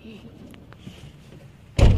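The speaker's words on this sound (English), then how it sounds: "she just shuts the door" A house door shuts with one loud, abrupt thud near the end, after a quiet stretch of faint room noise.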